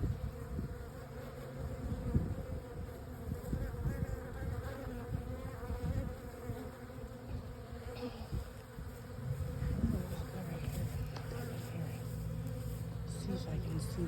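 A honey bee swarm settling into a new home makes a dense, continuous buzz, steady and close throughout, with faint voices in the background.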